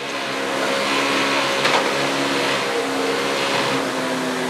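A Mini Countryman RRC rally car at the Rallye du Var 2014 roars past close by, its engine note loud and sustained with a rising and falling tone as it passes, no talking.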